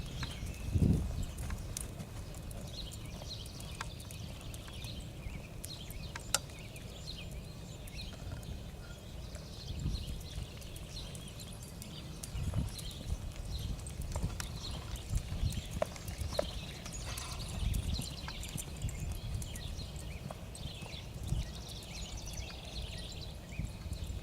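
A relaxed horse walks at an easy pace, its hooves clip-clopping softly and steadily in an even rhythm over a wide, quiet outdoor backdrop, with no talking.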